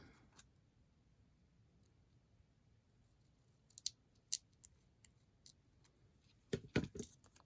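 Scissors cutting paper tabs: quiet, sparse snips and clicks that come sporadically at first, then a quick cluster of sharper cuts near the end, close by with no talking.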